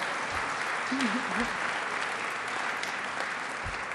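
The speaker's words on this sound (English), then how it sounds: "let's give him a round of applause" Steady, dense applause from the audience at the grand opening ceremony of the del Lago Resort & Casino in Seneca County, filling the whole stretch at an even level with a voice murmuring faintly beneath it.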